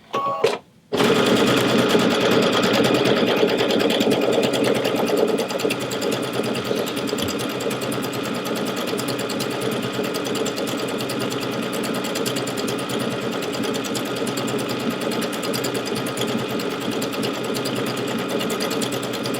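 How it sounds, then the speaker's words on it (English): A Solaris Vision sewing machine runs steadily after a brief start, a fast continuous mechanical whir with a rapid needle clatter that holds at an even level throughout. "All I gotta do is start sewing."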